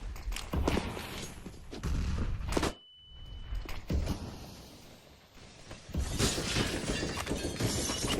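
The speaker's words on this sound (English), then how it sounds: "NaVi obviously breaking out the glass as well" Glass windows shatter during a Counter-Strike match on the Nuke map, loud bursts of breaking glass mixed with gunfire and game noise, briefly dropping out before the clattering resumes.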